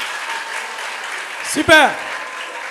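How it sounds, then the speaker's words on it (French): A studio audience applauds a team's score on a French radio quiz show, giving sustained, even clapping with a brief voice breaking through partway. "Ça s'applaudit, s'il vous plaît."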